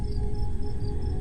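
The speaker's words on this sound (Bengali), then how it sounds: "একটানা ঝিঝির শব্দ ছাড়া আর কোনো শব্দ নেই" Crickets chirp at night beside a roadside kadam tree in a horror audio drama, a close, continuous drone with sharp, regularly pulsing chirps.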